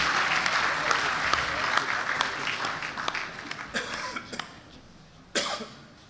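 Applause from an audience at a student leadership awards ceremony, dense steady clapping that gradually thins out and fades, with a few louder isolated claps and a brief burst near the end.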